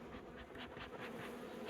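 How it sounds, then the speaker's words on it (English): Honey bees in a small winter colony feeding on sugar, a steady dense buzzing hum, close and continuous, with no talking. "it looks like the bees are going to town eating that"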